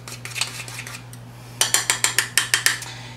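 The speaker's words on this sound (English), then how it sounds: "just give it a quick stir. Stir it all around." A chopstick stirs homemade air freshener in a glass container, producing a quick run of bright clinks, sparse at first then a steady rhythmic series of about ten sharp taps, close and clear.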